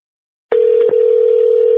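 A steady, unbroken telephone dial tone starts abruptly and holds loud and clean as an outgoing call is placed, with a couple of faint clicks near the start and no talking.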